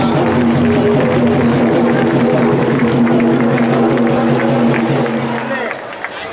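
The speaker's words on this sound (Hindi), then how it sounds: "ताली बजाकर सब लोग" Guests clap at a Hindu mass wedding ceremony held for 81 couples under a state marriage scheme as the groom garlands the bride. Steady clapping blends with a sustained droning tone and crowd voices, then fades out just before the end.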